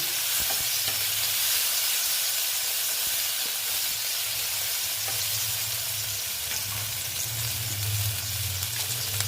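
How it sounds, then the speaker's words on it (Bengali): Chopped tomato and ginger paste fry in a pan with a steady, close sizzle and hiss, stirred now and then with soft scraping, continuous and unbroken with no talk. "টমেটো কুচিটা দিয়ে এই আদা বাটাটা দিয়ে দিলাম দিয়ে আবার একটু নেড়ে কেড়ে নিচ্ছি"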